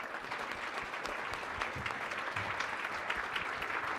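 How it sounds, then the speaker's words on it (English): An audience at a business conference gives a brief round of applause, steady dense clapping without voices. "a quick round of applause"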